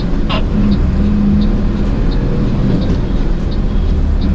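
A Mercedes-Benz Axor 4928T tractor truck accelerates hard on a test drive, its engine and road noise forming a loud, steady, continuous roar.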